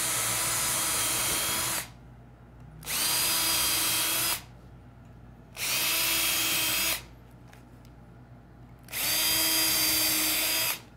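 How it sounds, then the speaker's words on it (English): A power drill bores pilot holes into a wooden tabletop for pipe legs, with four loud, steady high-pitched whirring bursts separated by short pauses. "Throw in my pilot holes."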